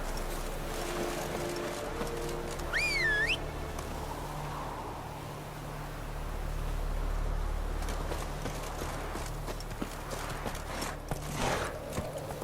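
Geralt's horse Roach trotting in the video game The Witcher 3, a quiet steady clip-clop of hooves under ambient background sound, with a brief whistle-like tone early on.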